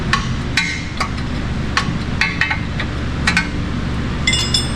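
Sharp metallic taps of a hammer striking a truck's front-end metal parts ring out irregularly over a steady low background hum, several strikes close together then a short cluster near the end.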